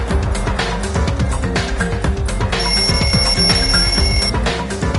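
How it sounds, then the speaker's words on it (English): A wall clock alarm in a lounge, in a video game, rings in a continuous, rapid metallic trill. It is loud and layered with busy rhythmic game sounds throughout. "The lounge's wall clock alarm started ringing at 5:30."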